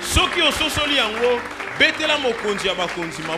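A church congregation at a Sunday worship service applauding, clapping and cheering mixed with loud, animated voices of the crowd and a speaker.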